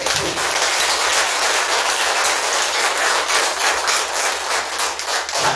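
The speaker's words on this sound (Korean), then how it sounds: "이 진묵대사 어머님을 위해서 박수 한번 크게" Crowd clapping at a Buddhist temple memorial ceremony, a dense, steady round of applause filling the whole stretch, loud and continuous.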